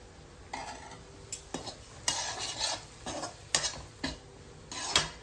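Ground spice paste roasting in a pan while a spoon stirs it, with a faint sizzle beneath a series of distinct scraping and clinking strokes at an uneven rhythm, close and moderately loud.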